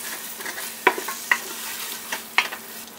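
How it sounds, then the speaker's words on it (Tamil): Mint leaves sautéing in oil for chicken biryani cooked in a pressure cooker, a soft steady sizzle punctuated by a few sharp clinks of a ladle stirring, heard close and without talk. "ஒரு நிமிஷம் வந்து இந்த புதினா வந்து எண்ணெயிலே வதங்கட்டும்"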